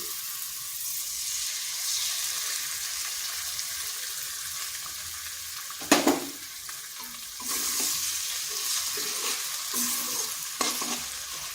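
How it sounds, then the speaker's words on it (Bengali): Two eggs frying in a pan of spiced red lentil masala, a steady soft sizzle with stirring scrapes and a louder burst of crackling as they hit the hot oil midway. "মশলাটা ভালো করে কষিয়ে নিতে হবে এরপর দিয়ে দিচ্ছি এখানে দুটো ডিম"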